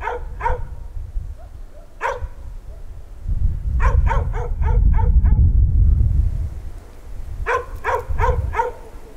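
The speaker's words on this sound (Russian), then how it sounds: "Собака!" A dog barking in a rural Belarusian agrotown, short sharp barks in bursts of one, two and several in quick succession, fairly close, over low rumbling background noise.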